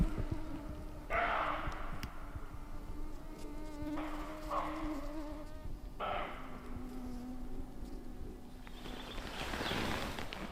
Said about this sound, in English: There's just so many mosquitoes